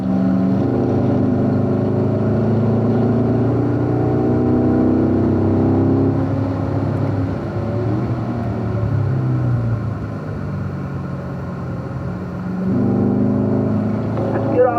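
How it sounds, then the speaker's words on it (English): A race car runs flat out down a straight, its engine a loud, sustained roar with rising tones, easing briefly midway before building again, while someone talks over it. "I'm going to start going full throttle now."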